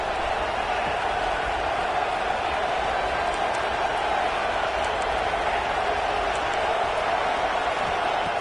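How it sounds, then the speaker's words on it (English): Crowd at a college football game filling a stadium, a dense steady roar that stays loud and constant throughout without breaks. "listen to this crowd noise. This stadium is vibrating."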